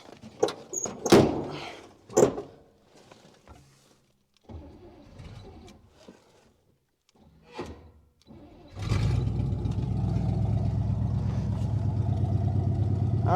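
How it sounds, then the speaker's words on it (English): The door of a 1967 Chevrolet Caprice, left sitting for over 30 years, is shut with a few solid thumps and clunks, followed by quiet shuffling and then a steady low engine rumble. "I better shut the door."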